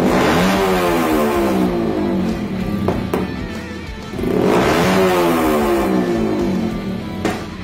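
Motorcycle engine fitted with a UMA M5 ECU revving on closed throttle, loud and close, with rising and falling engine tones swelling twice and sharp crackling pops between the revs, no voices.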